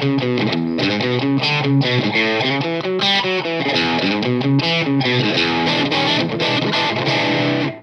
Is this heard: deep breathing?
no